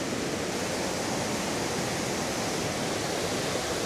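Heavy rushing water in Alaska, a dense, unbroken roar like a swollen stream or waterfall, loud and close and holding steady from start to finish with no voices.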